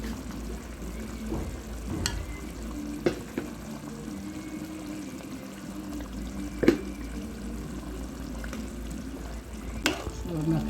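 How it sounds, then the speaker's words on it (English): Barracuda fish curry cooks in a pot, giving a low steady sizzle and bubbling with a few sharp clinks and stirring knocks scattered through. "So now I'll let my fish cook."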